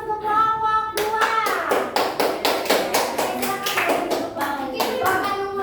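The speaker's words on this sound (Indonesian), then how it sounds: "Kita beri aplaus untuk kelompok 2." Children in a classroom applaud a student group, a lively burst of many hands clapping close by that runs steadily for several seconds after a brief moment of voices.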